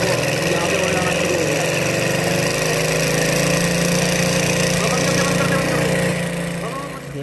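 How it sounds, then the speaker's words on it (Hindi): A Hero Splendor motorbike engine runs steadily after a fuel pump repair, holding a loud, even idle throughout and fading slightly at the end. "इसको स्टार्ट कर रहा हूँ मैं बाइक को"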